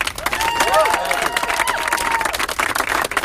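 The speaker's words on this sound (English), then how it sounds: "So would you please give a round of applause to Senator Casey, please." Audience at a health care rally with Senator Cory Booker and Rep. John Lewis applauding and cheering Senator Casey: loud, dense, sustained clapping from a large crowd, with whoops and shouted voices mixed in throughout.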